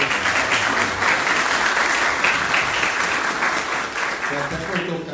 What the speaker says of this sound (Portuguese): Por favor, uma salva de palmas de novo.